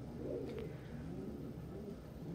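A flock of pigeons cooing softly, low rolling coos repeating over a quiet indoor background, fairly faint and steady throughout.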